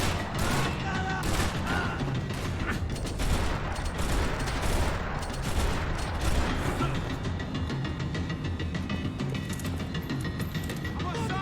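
Gunfire in Max Payne 3, bursts of shots and mechanical clatter in dense, chaotic layers through a busy game mix.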